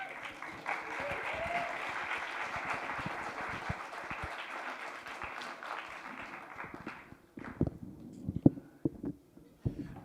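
Audience applause at an album release event, dense clapping for several seconds that thins out into scattered individual claps near the end, with some murmured voices.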